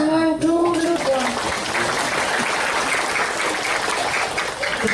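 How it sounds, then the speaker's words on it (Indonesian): A comedy show audience claps in a steady, broad wash of applause that follows a brief spoken line and holds at an even, fairly loud level to the end. "Tepuk tangan dulu dong."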